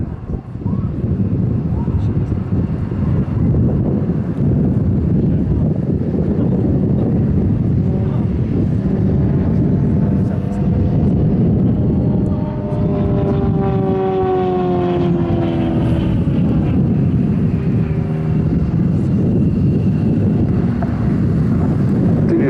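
Aerobatic plane with a carbon fibre wing performing rolls and tumbles at the FIA 2024 airshow, engine drone rising and falling with a pitch sweep midway, heavy wind buffeting the microphone throughout.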